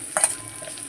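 Ginger garlic paste dropped into a pan of frying onions, giving a brief burst of sizzle over a soft continuous hiss.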